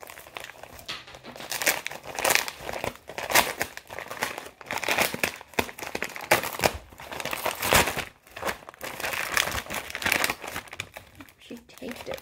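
Plastic Priority Mail mailer, folded over and taped, being handled and torn open up close, with loud repeated crinkling and crumpling in bursts, while a person talks throughout.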